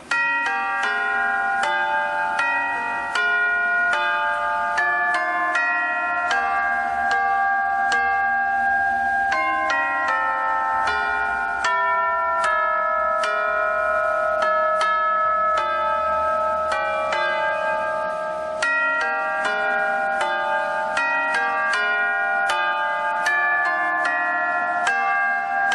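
Tubular bells ring out a steady sequence of struck metallic notes with long, overlapping resonant tails, playing a melody clearly and alone with no voices.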